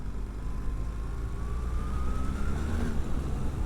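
A 2024 BMW R1300GS adventure motorcycle accelerates off-road, its engine droning loud and steady with a slowly rising pitch under rushing wind.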